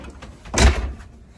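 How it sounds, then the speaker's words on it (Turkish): A single door on a towed caravan closes with a brief soft thud, heard close up against a quiet background. "Kapıyı kapatayım."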